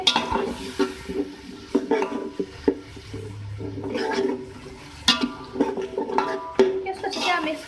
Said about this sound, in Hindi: इसको अच्छे से मिक्स कर लें सारे मसाले।